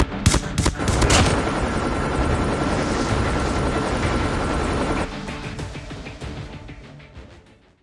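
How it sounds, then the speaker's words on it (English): A helicopter from the video game Call of Duty (stealth chopper killstreak) roars with rapid rotor chop, mixed with bursts of gunfire early on, then the engine noise fades away toward the end. "Stealth chopper inbound"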